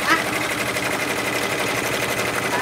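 Embroidery machine stitching a patch, a steady close mechanical hum with rapid needle rattle running continuously throughout, fairly loud.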